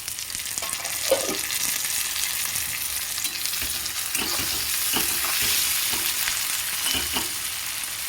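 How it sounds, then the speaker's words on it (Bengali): Chopped tomatoes hitting fried onions in a hot pan for a spicy Bengali tangra fish curry, giving a steady loud sizzle with intermittent stirring scrapes throughout, no talking. "পেঁয়াজটা ভাজা হয়ে গেছে এরপরে কেটে রাখা টমেটোগুলো দিয়ে দেবো"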